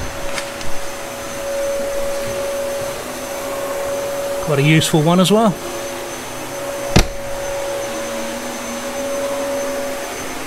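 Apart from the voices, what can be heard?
Hoover vacuum cleaner running nearby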